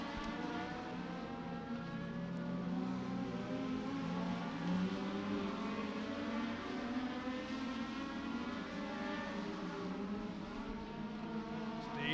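Legend cars racing around Beckley Motor Speedway during a feature race, a continuous layered engine drone from several cars at a distance, steady and sustained with slight swells as the pack circles.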